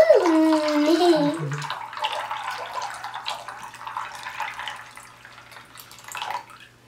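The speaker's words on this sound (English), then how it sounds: "now that was 3 cups of water we poured over them" Three cups of water pour and splash over almonds in a bowl, swishing and trickling for several seconds before tapering off, with a short squeaky whine at the start.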